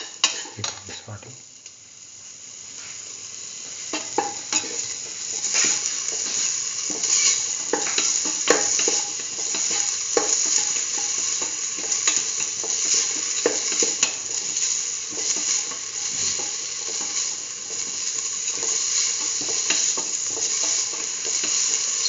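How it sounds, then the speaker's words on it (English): Chayote and green peas sauteing in a pan, with a steady sizzle throughout and repeated scrapes and clinks of a utensil stirring against the pan, fairly close and loud, with no talk. "Keep on sauteing."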